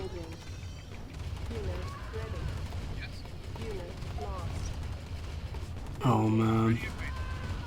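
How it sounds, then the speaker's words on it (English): Tank cannon fire from Command & Conquer Remastered (Tiberian Dawn, GDI) rumbles as a low, continuous bed of shots and explosions, with one loud, sustained blast near the end. Someone talks excitedly over the battle. "I've got like 3 tanks shooting at me right now."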